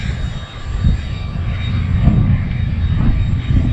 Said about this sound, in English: Rotary engine.